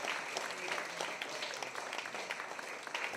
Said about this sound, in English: Give yourselves a huge round of applause for taking part.